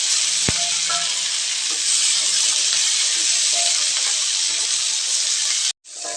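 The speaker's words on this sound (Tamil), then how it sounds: "வெங்காயம் நல்லா வதங்கட்டுங்க." Onions sautéing in a pan for a tamarind dish, a steady close crackling sizzle that runs unbroken and loud, with faint stirring clinks, then a brief dropout near the end.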